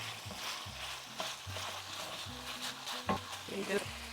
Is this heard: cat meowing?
no